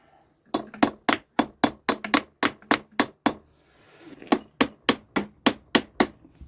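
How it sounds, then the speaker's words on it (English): Light hammer taps on the cylinder head of a Douglas motorcycle engine being freed from seizure: two quick runs of about a dozen crisp, evenly spaced metallic knocks, close and loud, with a short pause between them. "These are very gentle taps, by the way, no risk of breaking them coolant fins"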